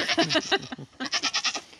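A goat bleating loudly and close by, a rapid series of wavering, quavering calls in two bursts, the second a run of about seven even pulses, with no talk over it.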